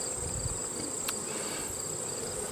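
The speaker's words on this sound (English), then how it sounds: "I'm seeing a lot of bees in there." Honey bees crowd inside a storm-damaged beehive, making a steady, dense buzzing hum that stays even and close throughout with no voices.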